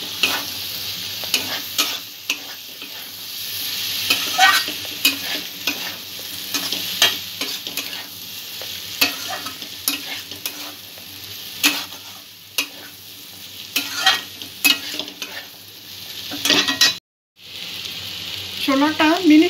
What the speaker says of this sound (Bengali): ছোলাটা মিনিট খানেক কষিয়ে নিয়েছি